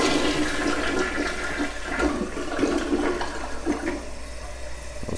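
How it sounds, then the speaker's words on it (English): A household toilet flushes during a test after a flapper and fill valve repair, a loud, close rush and gurgle of water that runs steadily for about five seconds and tapers slightly at the end. "give this a test flush."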